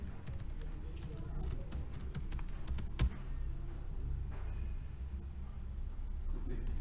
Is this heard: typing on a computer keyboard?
yes